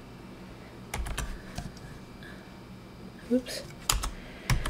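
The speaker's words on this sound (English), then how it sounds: "let's type in destination." Typing on a computer keyboard at a desk: sparse, quiet key clicks in small bursts, with a person speaking softly between them.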